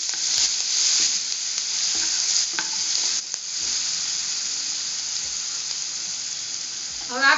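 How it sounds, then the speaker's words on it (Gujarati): Ginger, garlic and chili paste sizzles in hot oil, a dense steady hiss close by with a few sharp spatula knocks and scrapes as it is stirred, no voices. "આપણે એની અંદર નાખી દેશું તેલમાં। હવે આ પેસ્ટ ને આપણે એકવાર હલાવી લઈશું।"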